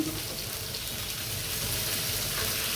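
Fish and two large prawns frying in mustard oil, an even, continuous close sizzle with a crackling hiss that swells slightly toward the end, no talking.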